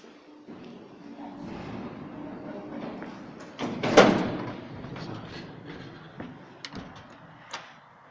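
Otis elevator doors sliding shut in a shopping-centre lift, a muffled rumbling glide with a sharp bump near the middle and a few light clicks after, all quite faint.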